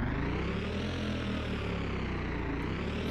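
A Bugatti, the 110th anniversary edition, revs in the Driving Empire video game, giving a steady, loud, continuous engine drone that holds for the whole stretch with no talk over it.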